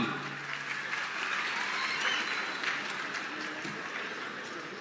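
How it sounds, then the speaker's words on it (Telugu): A crowd at a government land-title event in Kalugatla, Emmiganur constituency, applauds after farmers receive passbooks from the Chief Minister; a broad, continuous wash of clapping from many people, with a sharp burst at the very end. "గట్టిగా చప్పట్లతో అభినందనలు తెలియజేద్దాం"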